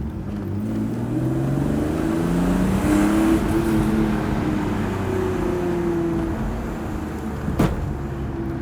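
A BMW E36 M3 engine drones steadily from inside the cabin, rising and falling in pitch as it revs through the gears, with a brief thump from a road bump near the end.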